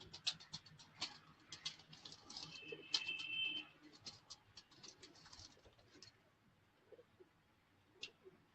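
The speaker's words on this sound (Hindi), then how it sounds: "इसी तरह जी इधर भी कबूतर हैं कुछ ब्रीडर" Faint rooftop sounds from a group of breeder pigeons: soft intermittent cooing and light chirping calls, with occasional patter and ticks in the background, fairly distant and quiet.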